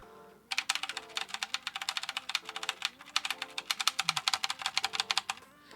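Fast, even typing on a customized Z15 mechanical keyboard with Temu switches, close and crisp, with dense clacking keystrokes and a few short pauses.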